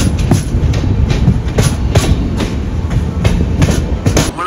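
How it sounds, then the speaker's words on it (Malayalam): A long-distance express train runs slowly on a winding ghat section of Indian Railways. The near wheels give a loud, steady clickety-clack with a continuous rumble and no voices. "അപ്പൊ ട്രെയിൻ ഇങ്ങനെ പയ്യാണ് പോകുന്നത്."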